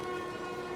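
A train rumbles steadily in a Spider-Man video game, a brief continuous mechanical drone with a sustained tonal hum, loud and close, with no voices.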